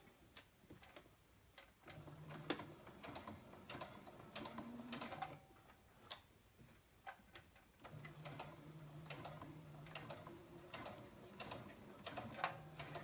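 Sewing machine stitching a 1/4 inch base seam over fabric pleats on a wristlet, heard as faint, steady mechanical ticking and whirring that starts and pauses, fairly quiet and close.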